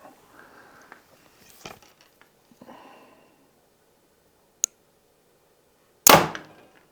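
A compound bow looses an arrow with one sharp, loud snap near the end, preceded by faint shuffling and a brief click, otherwise quiet.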